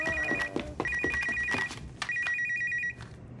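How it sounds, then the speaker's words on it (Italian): A phone receiving an SMS text message chimes in a rapid repeating electronic ring in three short bursts, clear and fairly close, with faint background clatter between the bursts and no speech. "La zia Monica ha ricevuto un SMS dal suo fidanzato."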